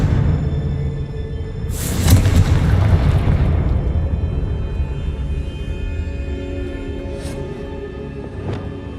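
A Confringo blasting spell goes off in Hogwarts Legacy, a single loud booming blast with a long rumbling tail, followed later by a couple of fainter sharp effects.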